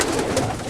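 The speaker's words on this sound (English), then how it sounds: "We have a lot of homer birds." Racing homing pigeons coo briefly in a loft, a soft close murmur against a noisy background.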